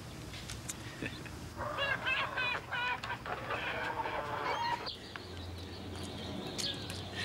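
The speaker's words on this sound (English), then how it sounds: "here's to some very happy chooks" Chickens clucking nearby in a steady run of short repeated calls over a murmuring background, with faint low hum and other bird sounds.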